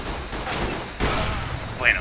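Gunfire in the video game CS:GO, a few sharp shots in quick succession, close and loud, with a player talking over the action.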